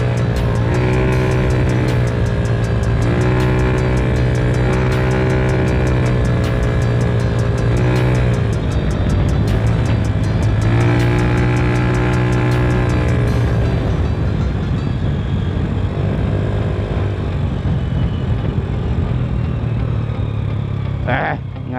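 Vehicles racing along a road, loud engines droning and rising in pitch as they rev and pass, with a continuous roar that fades out toward the end.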